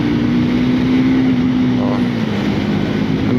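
Triumph Scrambler 400X motorcycle engine pulling hard in third gear, a steady droning hum with wind rush, its pitch drifting slightly downward as it holds speed.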